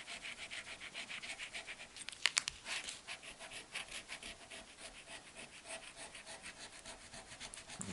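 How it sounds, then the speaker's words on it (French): A coin scratches FDJ scratch-card lottery tickets in quick rhythmic rasping strokes, close and fairly quiet, with a few sharper scrapes near the middle and no talking. "On va gratter tous ces petits symboles."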